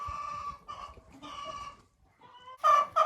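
Hens clucking nearby in a group of young and older chickens, a run of soft repeated clucks and murmurs that rises into louder, sharper calls toward the end.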